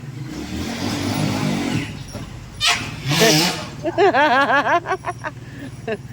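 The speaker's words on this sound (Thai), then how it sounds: "ได้ยินเสียงรถพ่อมารู้" A car engine hums and revs as dad's car arrives, its low drone running through the clip while people talk over it and a high excited voice chatters toward the end.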